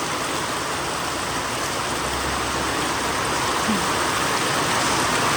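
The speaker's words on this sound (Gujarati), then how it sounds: "મોબાઈલમાં ઓછો દેખાય પણ વરસાદ વધારે ચાલુ હોય." Dense, steady rain pours down hard, a constant heavy hiss of drops on surfaces with no let-up.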